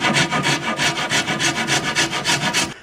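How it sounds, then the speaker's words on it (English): Hand rasp working a yew longbow stave, about a dozen steady rhythmic strokes of dry wooden scraping, close and loud with no talking. "If I rasp at an angle"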